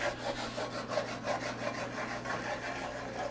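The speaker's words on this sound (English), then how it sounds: "I'm just scraping the bottom of the pan." Utensil scraping the bottom of a pan after cooking pepper-crusted pork chops: a steady, rhythmic rasping back-and-forth at close range, fairly quiet, with a low hum behind it and no talk.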